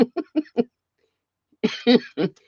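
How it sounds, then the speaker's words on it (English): Four quick, evenly spaced little coughs, a short pause, then a heavier, rougher bout of coughing close to the mic. "Sorry if I'm coughing on you guys."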